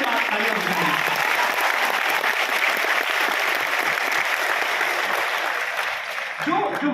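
Sustained applause from a large audience at a Hindi poetry and language talk in Varanasi, a dense, steady clapping that fills the room for several seconds before a voice begins to cut in at the end.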